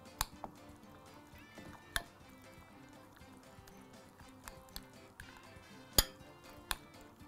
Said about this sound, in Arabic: نقلب.